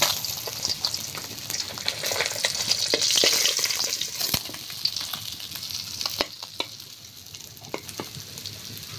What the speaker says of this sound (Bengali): তো মাছ ভাজা হয়ে গিয়েছে, এবার কিন্তু তুলে নিচ্ছি।